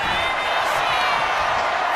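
A WWE 2K25 wrestling arena crowd roars and cheers continuously, a dense, loud wash of voices with no break.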